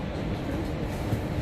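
A metro train ride on the way to a winter fair in Majorca, with a steady loud rumble and rolling noise filling the carriage throughout.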